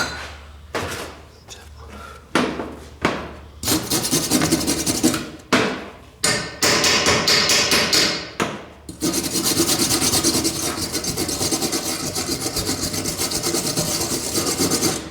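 A wire-feed welder runs on steel, starting with short crackling bursts and then settling into a long, continuous sizzling buzz, close and loud, with a person speaking at times.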